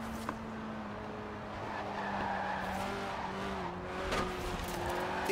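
Lotus Elise Sport 190 with a 1.8-litre engine that revs to 8,000 RPM, driven in the Forza Horizon racing game, heard as a sustained engine drone with tire squeal over a steady rumble.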